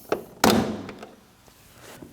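A plastic trim tool pops the corner of a 2011-2016 Kia Optima front door panel loose, giving one sharp clack followed by a few quieter taps and thunks, close and clear with no talking.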